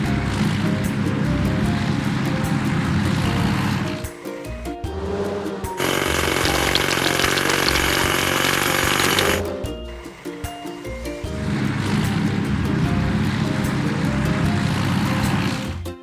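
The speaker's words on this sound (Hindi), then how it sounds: "हाइड्रोलिक हथौड़ा।" In a kids' truck construction video game, a hydraulic hammer pounds stones in a loud, sustained rattling burst between stretches of a droning engine hum.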